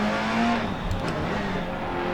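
Rally car engine from DiRT Rally dropped into first gear, a loud, close, strained drone with a steady rising whine over rough road noise, heard alone.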